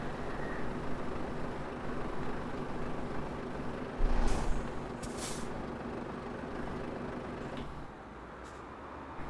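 A heavy truck rolls along in Euro Truck Simulator 2 with a steady low engine drone, a burst of louder rumble and an air-brake-like hiss near the middle, then a slightly quieter stretch.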